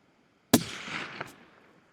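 A single sharp rifle shot cracks out at a bull tahr while hunting on open public land, followed by a rolling echo fading over about a second, with a faint second crack.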